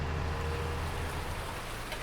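Steady rain in the Farming Simulator 19 video game hisses evenly as a dense, continuous wash of drops, with a low rumble underneath and no voices.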